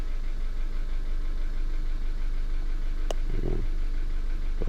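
A warmed-up 2012 Hyundai Accent engine idles steadily with a continuous low hum and faint vibration, joined by a brief click and a short low thump near the end.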